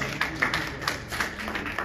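A church congregation at a holy communion service clapping for Jesus, a brief burst of about eight quick, fairly faint hand claps in a loose rhythm.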